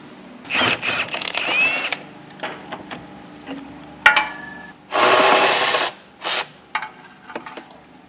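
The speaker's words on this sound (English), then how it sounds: "we're gonna be removing this, and to do so we're gonna need an 18mm socket" Hand tools work bracket bolts with an 18mm socket on a 2019 Ford Explorer during a trailer hitch install: scattered close metallic clicks and scrapes, then a loud sustained rasping burst and a few shorter bursts.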